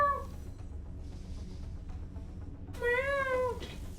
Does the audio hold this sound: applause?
no